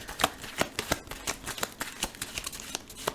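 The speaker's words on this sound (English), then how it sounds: "So, trying to give this a real good shuffle." A deck of game cards is shuffled by hand for a Captain America card game, giving a quick run of crisp riffling snaps and flutters, close and fairly quiet, with no talk.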